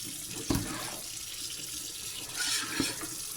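Tap water runs into a kitchen sink as a raw turkey is washed, a steady moderate hiss with a couple of brief splashy knocks, no talking.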